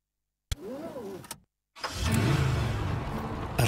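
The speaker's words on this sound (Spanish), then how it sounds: "Arranca un auto y arranca esto." Car engine starting: a brief whining crank and a pause, then the engine catches and settles into a steady, fairly loud idle.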